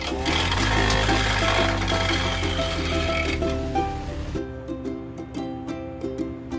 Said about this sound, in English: we first do the roughing part where we set up the sample on machine and remove the unwanted layer of wood using the spindle gauge